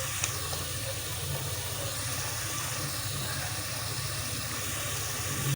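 Masala spices sizzling in a hot pan while being sautéed for mash daal and chicken kaleji, a steady close hiss that runs without a break.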